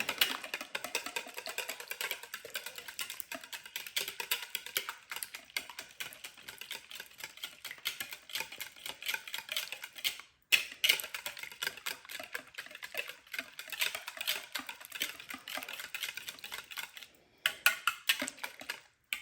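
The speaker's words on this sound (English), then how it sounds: "Pepper. Whisk it." Eggs with pepper are whisked in a bowl, giving a quick, steady ticking clatter that runs for a long stretch with a couple of brief pauses.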